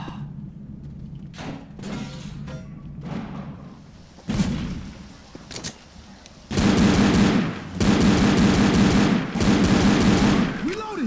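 Guns fire at the Witch in Left 4 Dead, with scattered shots early on followed by long, loud sustained bursts of automatic fire near the end, and someone talking at times beneath them.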